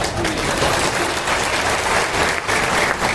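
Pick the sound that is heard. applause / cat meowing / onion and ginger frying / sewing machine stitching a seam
applause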